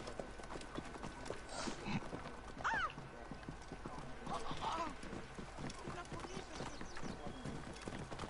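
Horse hooves clip-clop steadily at a gallop in the video game Assassin's Creed Origins, with a couple of short whinnies breaking through the ongoing hoofbeats at a moderate distance.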